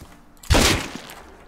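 A single loud blast from an AK rifle in the video game Rust, a close, booming shot that decays quickly, with no talk.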